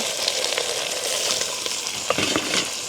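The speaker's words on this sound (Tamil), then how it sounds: "எண்ணெய் கொதிச்சிட்டுது காலிக்கிறதுக்காக கடுகு பெருஞ்சீரகம் அதை விட வெந்தயம் கொஞ்சமும் கருவேப்பமில்லை ரெண்டையும் போடுவோம்" Mustard seeds, fennel, fenugreek and curry leaves crackle and sizzle in hot oil, a dense close-up frying hiss with small pops throughout.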